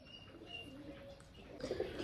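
Baby pigeons cooing during chattri (perch) training, soft low coos and faint chirps, quiet and somewhat distant, swelling slightly near the end.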